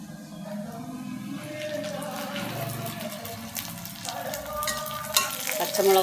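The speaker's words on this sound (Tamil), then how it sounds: "குழம்பு தாளித்து விட்டுடலாம்." Spices crackle and sizzle in hot oil for a Tamil white sudumbu fish curry, with green chillies being sautéed alongside; a steady, close frying hiss with light stirring that grows a little louder toward the end, no voices.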